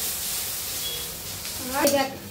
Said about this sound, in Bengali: এবার এটাকে ভাজা করে দেবো